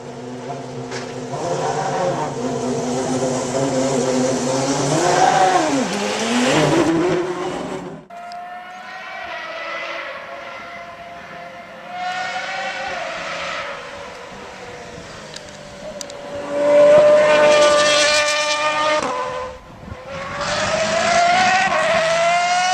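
A loud Lola B08/60 Aston Martin Le Mans racing car engine roars and revs, pitch climbing and falling as it accelerates past, with a brief lull before several more powerful passes.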